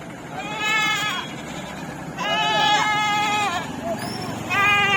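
Goats bleat repeatedly in long, wavering calls at a busy Kothagudem livestock market, several animals close by with overlapping cries over a steady crowd murmur and faint voices.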